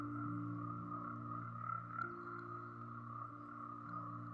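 Tropical rainforest dart frogs call in a steady chorus of trilling croaks, layered and continuous at moderate distance, with no voices present.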